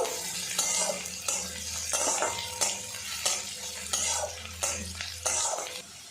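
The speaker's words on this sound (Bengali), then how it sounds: "লালচে রং করিয়ে পেঁয়াজটা ভাজা ভাজা করে নেব।" Onion is stirred while frying in mustard oil until reddish, with a spatula scraping the pan in about eight rhythmic, regular strokes over a constant close sizzle.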